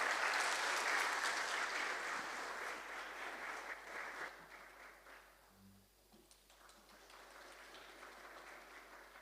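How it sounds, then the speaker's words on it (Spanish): A church audience at a Bible seminar claps loudly to welcome a singer. The applause fades to near quiet partway through, then a softer round of clapping rises again. "Con fuertes aplausos vamos a recibir"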